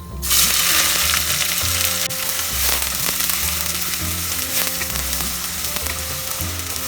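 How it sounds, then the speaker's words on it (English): Onion half-frying in hot oil with cumin seeds and shahi jeera for hariyali mutton, a loud steady sizzle starting abruptly, with crackling bursts and a low pulsing hum beneath, no talk. "we will half fry the onion"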